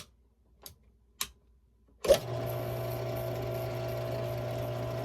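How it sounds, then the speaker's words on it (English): A couple of sharp clicks, then a power drill kicks in to bore a second hole, running as a steady, close whining hum with a constant pitch until the end. "So we got the second hole lined up, so let's get that drilled and ready."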